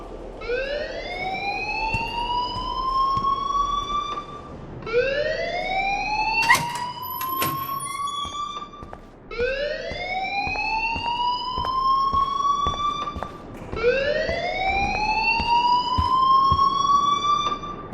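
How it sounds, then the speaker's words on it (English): A school alarm in the video game Life is Strange wails in four long rising siren sweeps, loud and evenly spaced, with a brief sharp clatter partway through. "please turn off that alarm since that's your job"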